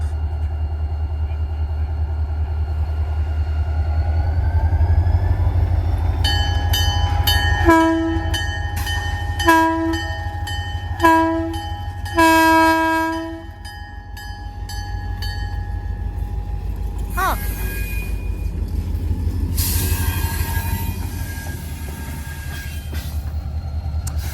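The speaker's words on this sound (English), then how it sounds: "And this train will head back north, ladies and gentlemen." A train rumbles past steadily in Beecher, Wisconsin, while its horn sounds in several short and long blasts, followed by clanking and hissing as the cars roll by.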